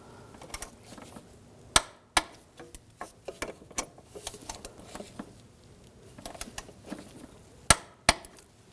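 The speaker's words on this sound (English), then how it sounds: "Now tighten these bolts. And torque these bolts to 27 foot-pounds." Wrench work tightening and torquing bolts on the rear shock of a 2006-2009 Audi S4, a scattered series of sharp metallic clicks and taps, a few louder knocks, in a quiet garage with no talking.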